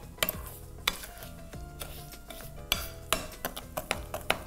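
A spoon stirs cheese mixed with crème fraîche in a bowl, giving irregular clinks and scrapes against the dish, close and fairly quiet with no talking.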